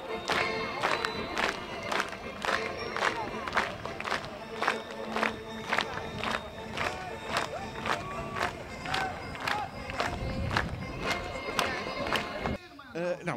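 A crowd at an equestrian show claps rhythmically in time for the Cossack riders, sharp regular beats over a murmur of voices and shouting, lasting over ten seconds before a brief pause.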